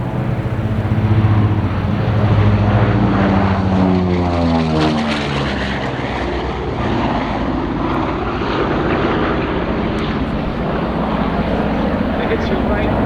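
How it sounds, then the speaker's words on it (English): A B-29 Superfortress, a four-engine propeller bomber, passes at an airshow at EAA AirVenture Oshkosh 2025, its loud droning engines sweeping downward in pitch as it goes by, with a commentator's voice heard over it. "It's your right, the B29 Super Fortress and Don going by"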